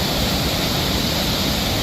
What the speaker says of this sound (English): That is some angry water. Just churning and churning.